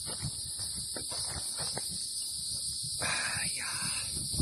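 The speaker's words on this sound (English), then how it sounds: "Bugs are super loud." Crickets and other insects on a Florida trail drone in a loud, continuous high-pitched chorus, with soft nearby rustling and thumps underneath.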